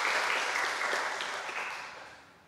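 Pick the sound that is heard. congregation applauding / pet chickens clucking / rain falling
congregation applauding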